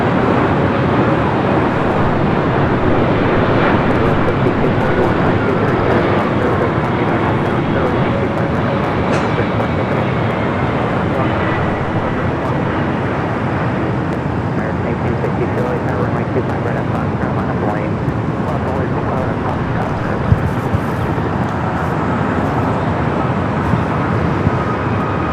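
A Delta Boeing 767-300ER jet arriving at Los Angeles airport from JFK: a steady, broad roar of jet engine noise holds for the whole stretch, with no clear rise or fall.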